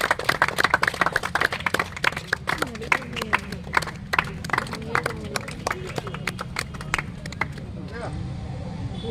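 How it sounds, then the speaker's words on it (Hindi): An audience at a community gathering claps in a fast, dense burst of sharp hand claps that thins out toward the end, heard close with people talking over it. "ताली बजा दीजिए।"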